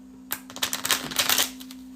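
Yoga Mindset cards being shuffled by hand in a quick riffle of dense, papery flutters lasting about a second, close and fairly loud over a steady low hum.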